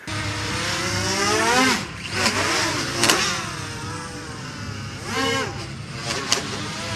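A spinning drone motor on a Mavic Mini converted to FPV, with parts rubbing together: a whining, buzzing motor tone that repeatedly sweeps up and down in pitch in several bursts, close and fairly loud over a low rumble.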